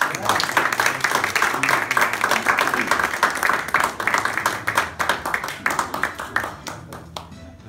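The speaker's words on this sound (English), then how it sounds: "I think that's a round of applause right there." Clapping from a room of attendees at an MOU signing with ST Engineering in Pensacola, individual hand claps clearly distinct and close, strong at first and gradually thinning out toward the end.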